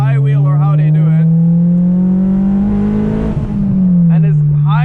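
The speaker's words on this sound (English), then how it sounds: "this high revving 4-cylinder engine is quite something special" A Honda S2000 high-revving four-cylinder engine drones loud and close from inside the car, pitch rising steadily under acceleration, then easing off, while someone talks over it.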